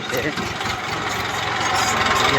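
A tractor engine rumbles steadily near a village pond and temple, its low idling drone growing slightly louder as it approaches, with voices talking over it.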